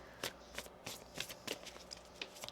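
Tarot cards being shuffled, a quick series of crisp riffling flicks repeating close by in a quiet room, with no voices.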